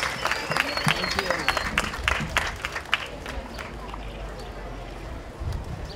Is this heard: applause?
yes